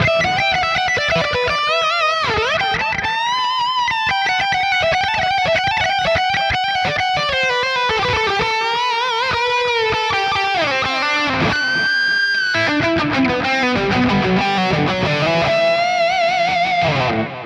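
An electric guitar lead tone from a Neural DSP Quad Cortex pedalboard, driven with gain, delay and reverb, sings sustained bending melodic lines with echoing tails. It plays loud and unbroken for about seventeen seconds with no voices.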